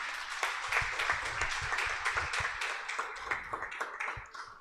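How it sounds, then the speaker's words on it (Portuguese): A church congregation claps in praise, dense rhythmic applause that swells and then thins out toward the end, with faint voices underneath. "e as palmas louvam ao Senhor."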